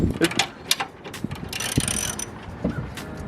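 Quick bursts of ratchet clicking tightening a bolt on a Nissan 350Z, a few short runs of mechanical ticks close by, with brief pauses between them.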